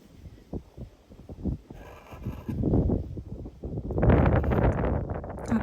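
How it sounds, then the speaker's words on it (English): Gusty wind buffeting the microphone in rough, rising bursts, growing louder toward the end. "it is so windy"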